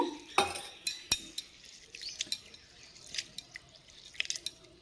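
Gobindobhog rice being rinsed by hand in water in a kitchen bowl, with soft sloshing, dripping and a few light clinks against the pot, close and fairly quiet, no talk.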